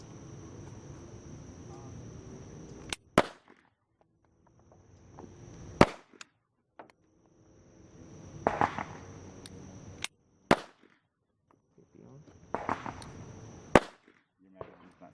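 SAR-9 pistol fired at a target, five sharp, loud gunshots spaced a few seconds apart with crisp echoes, while a voice talks quietly between shots.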